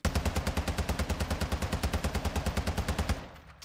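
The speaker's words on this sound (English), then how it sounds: "I'm just going to go ahead and I'm going to shoot off one clip here" Rapid automatic rifle fire in Modern Warfare 2 rattles off about thirty evenly spaced shots from a 30-round magazine, loud and close, then stops abruptly as the magazine empties.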